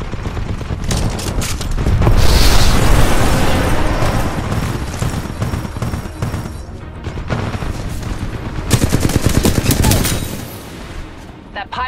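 Titan primary weapon fire in Titanfall 2 multiplayer: loud, sustained bursts of rapid heavy gunfire with booming impacts, swelling and easing over the span, with a voice faintly mixed in.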